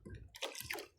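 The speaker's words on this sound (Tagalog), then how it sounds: "Kaya kung narinig yung ingay ng kawan ng isda." A school of fish splashes at the sea surface in two or three quick, faint watery bursts within a single second.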